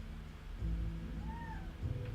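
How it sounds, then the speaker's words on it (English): A cat meows nearby indoors, giving one clear, short rising-and-falling call partway through, over low background rumble. "I have a cat calling for me."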